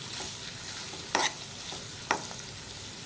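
Beetroot fry being stirred in a pan, a soft sizzle with a few sharp spatula scrapes and clinks spaced about a second apart, close and alone.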